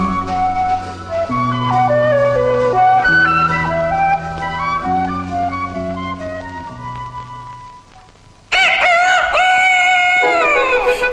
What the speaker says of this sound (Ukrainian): Це півник горлястий, а біля нього курочки чубарочки вишукують серед трави поживу.